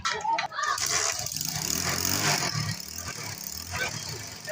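Motorbike starting and pulling away on a street, its engine buzz and rising revs heard under loud nearby chatter and traffic noise, with road clatter continuing to the end.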